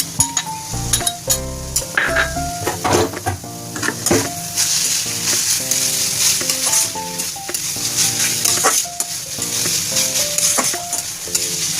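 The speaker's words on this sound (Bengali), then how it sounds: "এবারে চিংড়ি মাছটা দিয়ে দেবো।" Prawns frying with papaya in an oiled pan for a Bengali pepe ghonto, a loud continuous sizzle and bubbling with scraping stirs, light clinks of a utensil, and some music playing underneath.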